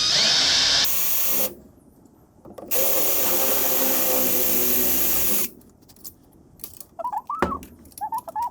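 Power drill boring holes in metal parts for a homemade spray paint shaker, two loud whirring bursts separated by a pause, followed by quieter clinks and handling noises.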